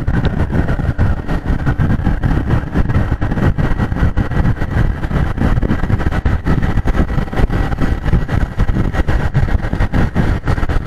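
A motorbike cruising along a road near the Assam–Meghalaya border toward Shillong, its engine a steady, loud drone blended with heavy wind rumble, continuous and close throughout with no voices.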